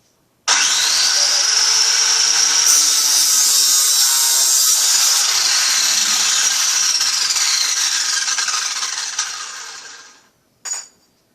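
A cutter wheel trims a steel golf club shaft, a loud steady high whine running about ten seconds before winding down, followed by a short clank.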